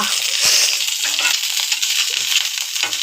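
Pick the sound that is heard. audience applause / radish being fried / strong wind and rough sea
radish being fried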